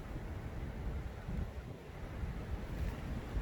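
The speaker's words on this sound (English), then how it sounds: "Wind picks up." Wind blowing outdoors, a steady broadband rush with gusty low rumble on the microphone, continuous and fairly faint, no talking.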